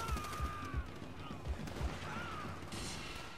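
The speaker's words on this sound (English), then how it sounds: "I don't know what I'm shooting at" Gunfire in the World at War shooter game: rhythmic heavy shots thud every fraction of a second over a dense, noisy battle backdrop, moderately loud.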